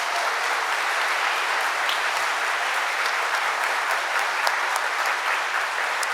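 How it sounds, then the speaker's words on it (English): A hall audience gives a loud, continuous ovation to the winners at the 2024 Presidential E Awards for export achievement. Dense clapping holds steady throughout, with no speech. "How about a round of applause for all of our award winners?"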